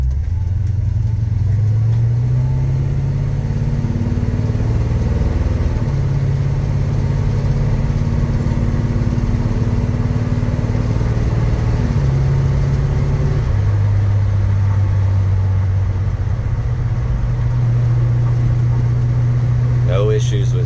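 A 1966 Chevrolet C/K 10 truck drives on bumpy back roads with a loud, steady engine drone that shifts pitch a few times as it changes speed, along with constant road rumble and cabin noise.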